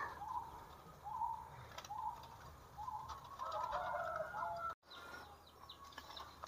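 Perkutut zebra doves, including cemani Mojopahit and Udan Mas breeding stock, coo in soft repeated phrases at a breeding aviary, fairly close, over steady background noise with a brief dropout near the end.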